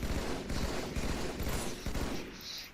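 Plasma pistol fire in Halo 2, heard as rapid bursts of repeated shots in quick clusters, loud and close, with no talk.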